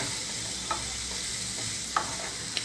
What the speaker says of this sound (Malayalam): നന്നായി ഒന്ന് മിക്സ് ചെയ്ത് കൊടുക്കാം. എന്നിട്ട് നന്നായി നമുക്കൊന്ന് ഉടച്ചെടുക്കണം.